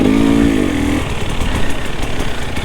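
A Husqvarna TPI two-stroke motorcycle engine revs hard in second gear, a loud buzzing tone that falls off after a second into a rough, pulsing rasp at closer range.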